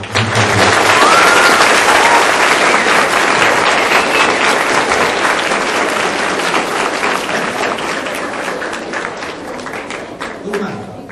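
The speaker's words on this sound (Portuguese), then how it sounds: "vamos dar uma salva de palmas bem forte para eles" Loud, sustained audience applause after a karate demonstration at a school event, dense clapping that holds strong for several seconds and then tapers gradually, with faint voices mixed in.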